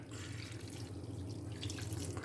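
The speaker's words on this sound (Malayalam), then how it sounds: "ഇനി കുറച്ച് വെള്ളം ഒഴിച്ച് കൊടുക്കാം" Water being poured over chopped beetroot pieces for aviyal in a cooking pot gives a steady, soft trickling splash under a low background hum, faint and continuous throughout.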